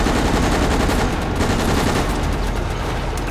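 Rapid continuous gunfire from a gun in Resident Evil: Operation Raccoon City, a dense loud automatic burst rattling without pause throughout.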